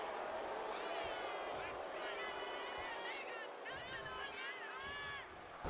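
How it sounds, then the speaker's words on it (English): A wrestling arena crowd in the video game WWE 2K26 roars as a steady, dense wash of noise throughout, with a commentator's voice running over it. "Look at Femi getting the crowd involved"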